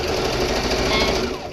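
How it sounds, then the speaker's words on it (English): A sewing machine chain stitches a zipper purse, giving a fast, loud, continuous mechanical rattle up close with no pauses. "this is called chain stitching. It uses less thread, and you don't have to cut all the time."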